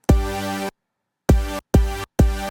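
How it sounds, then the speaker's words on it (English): A bright, buzzy supersaw synth lead plays four sustained notes with short gaps between them, loud and alone. "I'll show you the Supersaw lead that I made."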